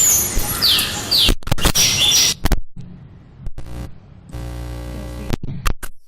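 Birds at a garden bird bath give high, quick chirps over a rushing, noisy background, followed by scattered clicks and quieter stretches.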